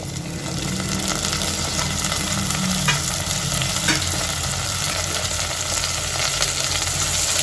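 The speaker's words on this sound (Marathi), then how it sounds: "या सर्वांना एकत्र परतून घेते यांना दोघांना दोन मिनिटापर्यंत चांगलं परतून घेते" Tomatoes and onions sauté in a hot pan for Goan-style prawn pulao, a steady close sizzle with a spoon stirring and scraping now and then, no voices.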